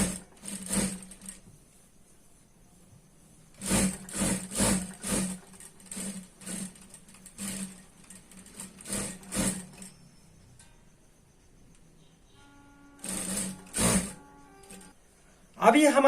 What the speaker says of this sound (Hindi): अब हम इसे डबल सिलाई लगाते हैं।